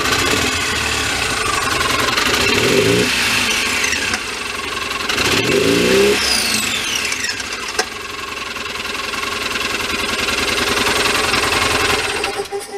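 A Polaris Ranger 800XP UTV with running issues idles roughly, then revs up twice and drops back, a close, loud engine with a whining clutch and no speech.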